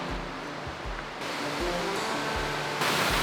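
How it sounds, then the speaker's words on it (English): Waterfall beside a slippery woodland path in Wales, a dense, continuous roar of falling water heard close and steady throughout, growing slightly louder toward the end. "I love a good waterfall."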